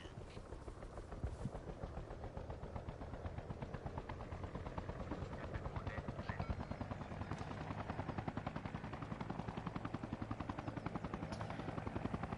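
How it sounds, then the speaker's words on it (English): A transport helicopter in the video game ArmA Reforger drones with steady rotor chop close by, loud and continuous throughout, with faint bursts that may be distant gunfire. "Transport chopper at the woods."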